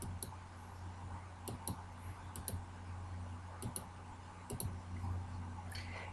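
A computer mouse clicks on an arrow in scheduling software, producing a scattered series of sharp, light clicks, some in quick pairs, over a faint steady hum with no talking.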